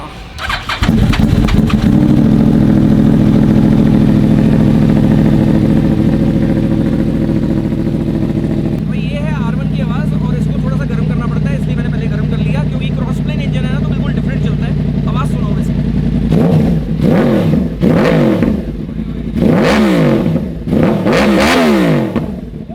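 A 2013 motorcycle with a loud aftermarket exhaust starts and settles into a deep, throbbing idle, then bursts into several sharp revs near the end, loud and close throughout.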